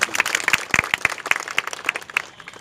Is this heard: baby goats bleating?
no